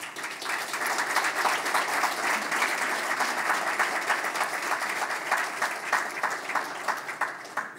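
A crowd at a student of the year awards ceremony gives a sustained round of applause, dense overlapping clapping at an even, fairly loud level throughout with no voices on top.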